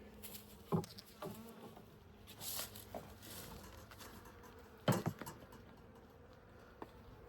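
Honeybees hum faintly around an open hive during a frame inspection, with a low steady drone broken by a few sharp knocks and clicks of handling.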